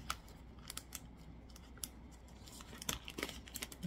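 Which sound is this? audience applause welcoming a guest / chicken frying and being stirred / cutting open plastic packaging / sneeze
cutting open plastic packaging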